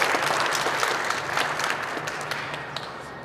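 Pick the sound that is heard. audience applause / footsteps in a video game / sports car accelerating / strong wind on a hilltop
audience applause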